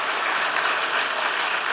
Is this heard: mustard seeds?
no